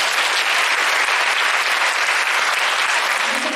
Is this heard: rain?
no